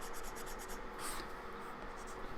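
Pencil drawing on paper, detailing an eyeball: a steady, close scratchy rasp with quick repeated strokes at first, then one longer rubbing sweep, continuous and moderately loud.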